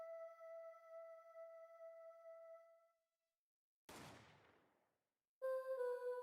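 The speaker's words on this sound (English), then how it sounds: "It's just like gunshot." Faint single gunshot in a video game, a brief noisy burst that decays over about a second, set between stretches of tonal game music with nobody talking.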